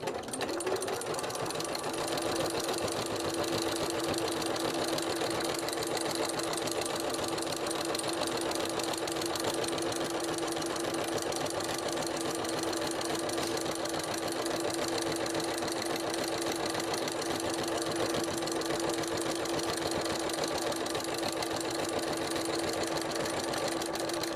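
A sewing machine stitches decorative cord in one fast, unbroken mechanical whir that stays loud and even throughout, with a faint sign of a bobbin problem and no one talking.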